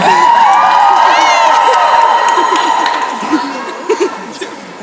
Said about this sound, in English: can I get everyone to cheer for the picture